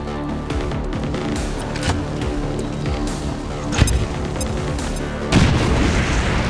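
A frag grenade explodes in XCOM 2 with deep booming rumble over continuous battle noise, a sharp crack midway and a heavy blast near the end, loud and close.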